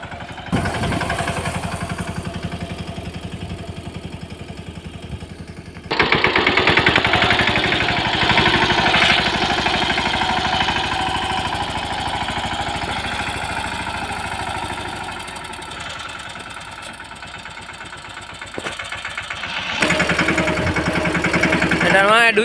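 A tractor engine runs steadily in a farm field while laying furrows, a loud mid-pitched chug that swells and fades as it moves, with people talking over it.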